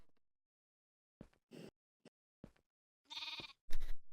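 Sheep in Minecraft bleating in short, separate calls, a few brief wavering baas spaced out with quiet gaps between them, close and clear with nothing else underneath.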